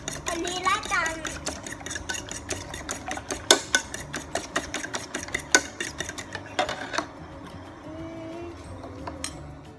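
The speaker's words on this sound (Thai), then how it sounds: "อย่าตีแรงนะคะค่อยๆตีเบาๆให้เขาเข้ากันนะคะ" Eggs beaten gently with water in a bowl for steamed egg pudding make quick, light clicking and tapping strokes in an uneven rhythm, close by, thinning out toward the end.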